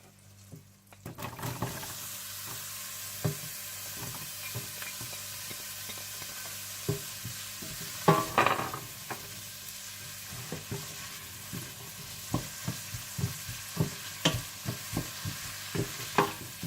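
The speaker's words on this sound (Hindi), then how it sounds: "जब मक्खन मेल्ट हो जाए तो इसमें प्याज और लहसुन डालकर थोड़ा सौते कर लीजिएगा" Onion and garlic sautéing in melted butter in a pan, a soft steady sizzle beneath repeated scraping and stirring strokes from a spoon, close and fairly quiet.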